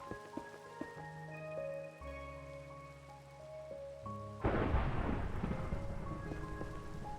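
Rain pours steadily with a low rumble of thunder, growing noticeably louder and denser partway through, heard over soft background game music.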